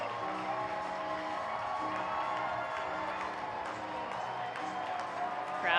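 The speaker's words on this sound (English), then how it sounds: "Crowd is excited to see the Mets' number 3 prospect deliver." A baseball crowd cheers and applauds at a Binghamton Rumble Ponies minor league game after a solo home run, a sustained broad roar of distant cheering with scattered whoops, steady throughout.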